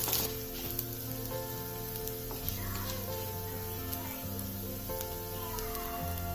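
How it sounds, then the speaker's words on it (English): Chana dal and urad dal frying in a pan until golden, a continuous bright sizzle with occasional stirring scrapes over a low steady hum, close and even, no talking. "Fry this well till the dals turn golden brown."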